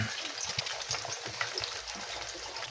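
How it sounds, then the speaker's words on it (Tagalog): Eggs fry in a pan with a continuous bright sizzle and crackle, close and fairly quiet, with soft stirring noises and faint talk underneath. "Inana magug ko magprito og itlog guys."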